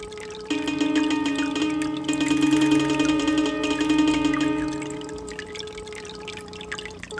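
Water dripping and pouring in a video game, a steady wet trickle that swells after the first half second and runs on for several seconds alongside sustained tonal game sounds, with no talking.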